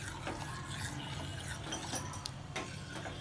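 Remaining milk being poured into a pot of semiya payasam (vermicelli kheer) cooking down and thickening, a soft continuous liquid pour with faint stirring clinks, steady and quiet with no talking.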